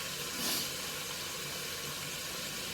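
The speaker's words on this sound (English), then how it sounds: "You want to leave it so the steam can escape." Steam escapes from under a pan lid while chicken fries, a steady, close, broadband hiss that swells briefly near the start and then holds at an even level.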